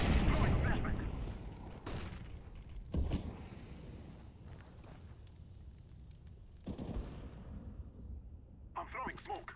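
Flashbangs and grenades go off in the CS:GO video game on de_mirage, with several sharp blasts and echoing booms amid gunfire and mechanical clatter, under radio-style voice callouts.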